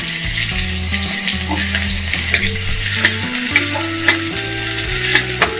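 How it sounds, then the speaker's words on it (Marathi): Chopped onion hits about two and a half ladles of hot oil in a pan and fries with a loud, steady sizzle and crackle, with soft stirring scrapes throughout and no voices. "आता सगळ्यात आधी मी हा कांदा टाकणार आहे।"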